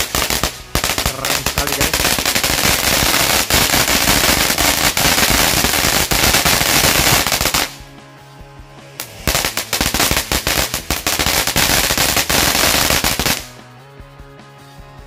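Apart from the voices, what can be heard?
Cassandra Magical firecrackers going off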